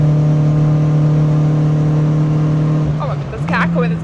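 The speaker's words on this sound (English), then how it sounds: "Oh my god, there's a car coming, there's a car coming." A loud, steady engine drone with a strong low hum fills the clip from inside a Renault Clio 182 on a Cadwell Park track day, then shifts pitch as a race car sweeps past near the end.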